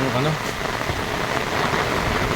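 Heavy rain pours down steadily in a dense, continuous wash of noise during a prolonged downpour, with faint movement and low sounds underneath.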